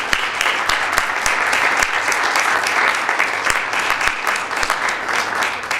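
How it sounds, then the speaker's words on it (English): Audience at a student government presidential debate claps loudly and continuously for several seconds, dense clapping from a roomful of people with no talk. "let's give him a round of applause"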